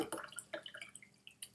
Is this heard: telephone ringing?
no